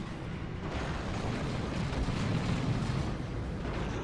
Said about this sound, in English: Something seriously blew up there though.